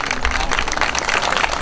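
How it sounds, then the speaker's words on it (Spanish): An audience gives applause, a dense, steady patter of many hands clapping at moderate loudness for a short stretch, with no clear voices over it. "Y le damos un aplauso"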